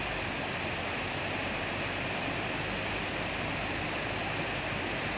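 Semeru lahar floodwater rushing beneath the Gladak Perak bridge, heard from about 20 meters above as a steady, dense, broadband roar that holds without pause.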